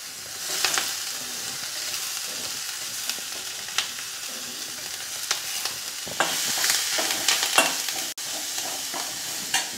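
Ginger, garlic, green chilli and onion fry in hot oil with whole spices, a loud bright sizzle and crackle with irregular bursts of stirring and scraping, growing busier toward the end, no talking.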